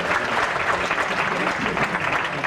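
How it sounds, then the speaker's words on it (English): Steady, dense audience applause for volunteers at a Universal Studios Hollywood show in 1991, a continuous even clapping wash from a crowd throughout. "Give a nice round of applause for helping us out."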